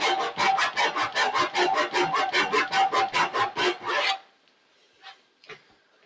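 A hand saw cuts through wood in fast, rhythmic rasping strokes for about four seconds, then stops, leaving near silence with a couple of faint knocks.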